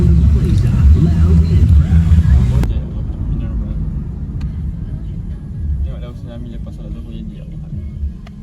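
A car engine rumbles steadily from inside the vehicle on the way to pick someone up, a low continuous drone that runs the whole time, louder during the first few seconds and then softer.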